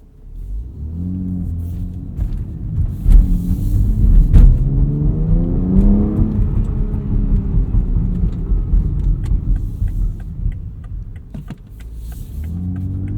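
A 2020 BMW X4M Competition SUV accelerates hard, its engine note climbing and rumbling loudly through rising revs before easing off and building again, heard close from inside the cabin without speech.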